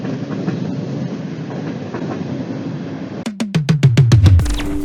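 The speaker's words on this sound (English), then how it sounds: "Train." A train rumbles past on the rails, a steady low roar that swells into a loud run of rhythmic clickety-clack wheel beats near the end, with no voices.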